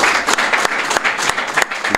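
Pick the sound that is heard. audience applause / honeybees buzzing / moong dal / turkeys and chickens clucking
audience applause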